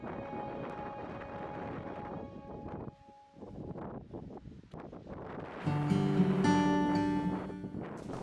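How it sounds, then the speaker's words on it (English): Strong wind gusting outdoors on the Orkney Islands beside an ancient tomb and broch, a steady roar buffeting the microphone that rises and thickens toward the end, with no talk. "super windy out there"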